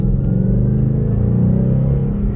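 A Ford Mustang 5.0 GT's V8 holds a deep, loud, rumbling drone under heavy throttle, steady and close with no break for a couple of seconds.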